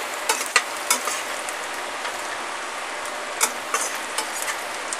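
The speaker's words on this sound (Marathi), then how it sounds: "थोडा वेळानंतर कांदा फ्राय झाला आहे" Onion frying in a pan sizzles with a steady close crackle, punctuated by a few sharp pops and spatters, with no talk.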